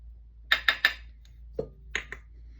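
A spoon lightly clinks against a bowl as fresh blueberries are tossed with flour for sourdough blueberry muffins: three quick close taps, a soft thud, then two more faint clinks.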